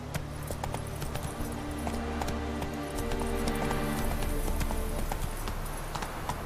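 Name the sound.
horse galloping in video game The Witcher 3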